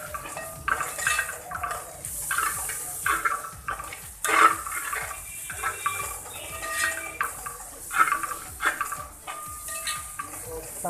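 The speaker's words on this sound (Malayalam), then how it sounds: "ഇളക്കി ചേർക്കുക." A spoon stirs chopped tomatoes into a homestyle chicken curry in a pan, giving repeated scraping clinks and soft sizzling at a steady, unhurried pace, close up and with no voices.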